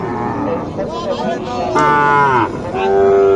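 A Sahiwal cow lows at a busy cattle market in Naogaon, giving several long, wavering moos of rising and falling pitch, loud and close, over a crowded background murmur.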